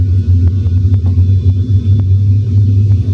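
Boeing 737-800 simulator engines spooling up for takeoff as the throttles are advanced, heard as a loud, steady low rumble and hum with faint clicks, close and continuous.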